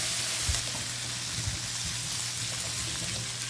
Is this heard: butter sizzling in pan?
yes